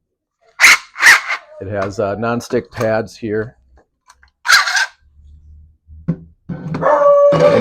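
A dog in a woodworking shop gives several sharp barks and yips near the start, then a higher bark later on. A person talks in between the barks.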